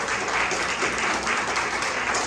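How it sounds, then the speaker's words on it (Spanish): An audience applauds during a Torah portion study session, a dense, steady wash of clapping that holds at an even, fairly loud level for the whole stretch with no voices over it. "Aplaudamos eso."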